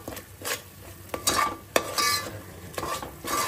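Black masala for mutton is stirred in oil in a pan, with a spoon scraping in uneven, repeated strokes over a soft sizzle, close and fairly loud, with no voices.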